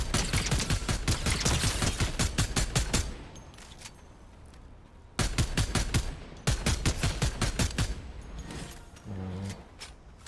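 Rapid automatic gunshots in a shooter video game, fired in two long, evenly spaced volleys separated by a short lull with scattered distant shots, loud and close.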